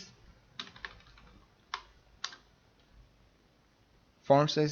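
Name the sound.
typing on a computer keyboard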